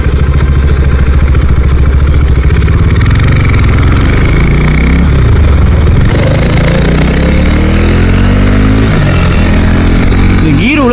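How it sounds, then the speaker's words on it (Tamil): A KTM RC 390 motorcycle's exhaust, loud and close, holding a steady throbbing idle before rising and falling through revs, with engine pitch sweeping up and down toward the end. "இந்த வண்டி எக்ஸாஸ்ட் நோட்டே ஒரு மாதிரி வித்தியாசமாக கேட்குது."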